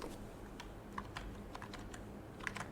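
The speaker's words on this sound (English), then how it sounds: "whatever I am typing now" Typing on a computer keyboard produces a quick run of soft, close key clicks at an uneven pace, with faint background hum underneath.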